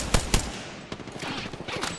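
Gunfire in the video game Apex Legends: two sharp, loud shots in quick succession, followed by fainter scattered pops and game noise.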